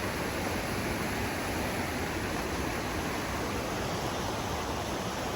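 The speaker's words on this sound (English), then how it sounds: "Again, this is the Salmon Falls River." The Salmon Falls River pouring over an old dam, a loud, steady wash of rushing water filling the whole clip without change or voices.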